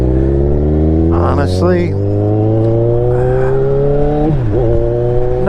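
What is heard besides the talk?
2016 Kawasaki Ninja 1000 motorcycle engine while riding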